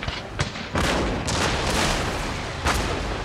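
Musket volleys from Royal Marines on a ship's foredeck during a Total War: Napoleon naval battle against the Spanish: sharp cracks and booms that overlap into dense fusillade noise, with no speech.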